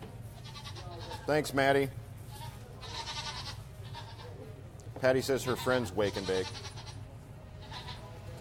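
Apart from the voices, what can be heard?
goats bleating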